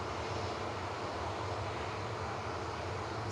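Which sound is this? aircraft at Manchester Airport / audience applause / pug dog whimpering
aircraft at Manchester Airport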